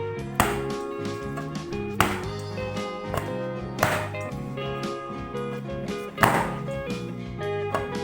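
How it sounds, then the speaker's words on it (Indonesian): Pizza dough for a calzone is slammed down onto a work surface to knead it, making four heavy thuds spaced a second or two apart over background music. "adonan ini kita banting-banting dulu seperti ini guys, supaya cepat kalis"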